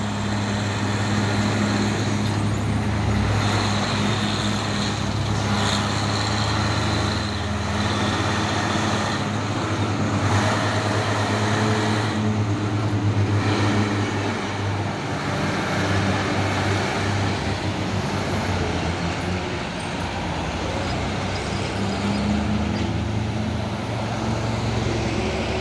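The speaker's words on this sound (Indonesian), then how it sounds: "Masuk lagi ya truk trailer Siba Surya Pau ini ya. Dan ini juga ada truk tangki CPO Citra Buana 220 PS." Trailer truck and CPO tank truck with a 220 PS engine rolling past on a road, a continuous loud rumble of heavy engines and tyre noise that swells and fades as traffic passes.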